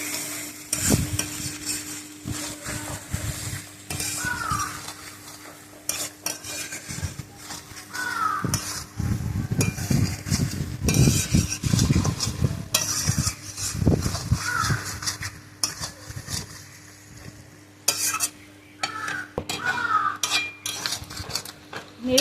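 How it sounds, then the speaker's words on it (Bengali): Mutton stir-fried in a pan with splashes of a little water comes through as scraping utensil strokes and clanks against the pot over a low sizzle, lasting the whole time with occasional louder bursts of stirring and no speech. "অল্প অল্প জল দিয়ে আমি এটাকে ভালো করে কষিয়ে দেবো"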